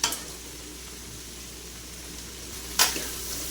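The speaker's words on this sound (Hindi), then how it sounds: "भिंडी फ्राई कर रहे तो तेल अच्छा रहना" Okra (bhindi) frying in oil gives a steady, close sizzle and hiss throughout, with one sharp clatter near the end.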